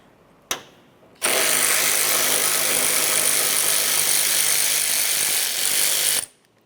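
A power tool spins out a hood hinge bolt on a 2012-2015 Honda Civic: after a sharp click, a loud steady whirring buzz runs for about five seconds, then cuts off, close and alone.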